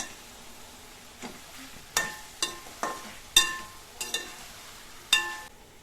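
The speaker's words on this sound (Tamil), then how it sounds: "இதையும் சேர்த்து நல்லா வதக்கிக்கலாம் ஒரு அஞ்சு நிமிஷம் அளவுக்கு நல்லா வதக்கிக்கலாம்" Chicken heads and bottle gourd cooking in oil in a pan for curry, heard as soft background sizzle broken by a handful of sharp utensil clinks and scrapes against the pot, spaced irregularly, with no talking.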